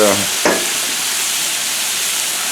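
Goulash sizzling loudly on a Blackstone griddle as sauce hits the hot surface, a dense steady hiss and crackle that stays close and even throughout.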